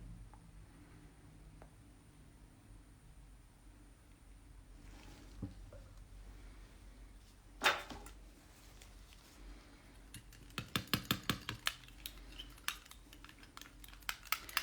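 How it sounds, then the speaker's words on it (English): Luxio Luminous Pearl gel polish stirred inside its bottle, quiet close clicks and scrapes, one sharper knock midway, then a quick burst of rhythmic tapping toward the end. "this one might need a stir as well, yep"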